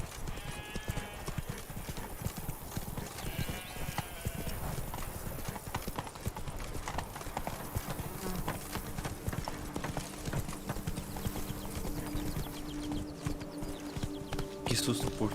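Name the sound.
horse Roach galloping in a video game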